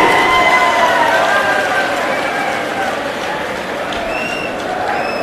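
A crowd at an AAP swearing-in ceremony in Haryana applauds in a dense, sustained wash of clapping, with whistles or faint tones rising above it.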